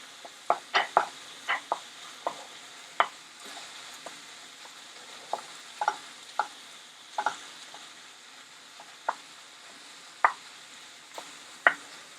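Seasoned minced meat stir-fried for Chinese tofu, a spatula scraping and tapping the pan in a dozen sharp, irregular knocks over a soft, steady sizzle, close and alone.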